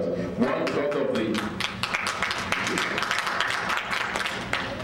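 Dense applause fills the stretch, a steady crowd clapping at even loudness with a voice or two mixed in.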